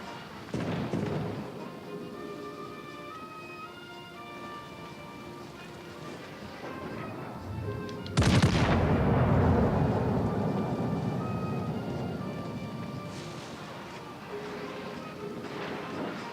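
Warship main guns firing in World of Warships: Legends: a deep, heavy boom that rolls and decays over several seconds, with a smaller report earlier and another later, over a steady music bed.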